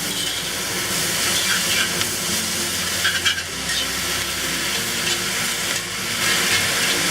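Purslane leaves and stems sizzle steadily while being stir-fried in a hot pan, a dense continuous crackle with occasional louder spatters and scraping stirs, close and even throughout with no talk.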